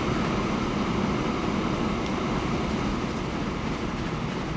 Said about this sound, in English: Okay, we get these trains out of the way.